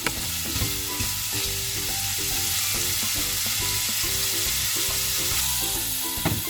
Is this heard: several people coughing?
no